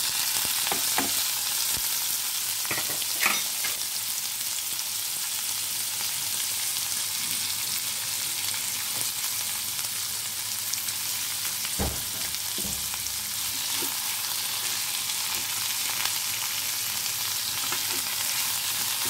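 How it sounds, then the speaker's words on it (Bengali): Bottle gourd peels with green chillies fry in hot oil, a steady bright sizzle throughout with occasional stirring scrapes and taps of a utensil in the pan. "একটু ভাজা ভাজা হবে তেলেতে।"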